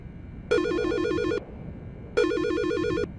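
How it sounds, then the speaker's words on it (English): Mobile phone ringtone from the video game Silent Hill: Shattered Memories, two identical warbling electronic trill bursts about a second long separated by a short pause, clear over a faint background hum. "You gonna answer your phone?"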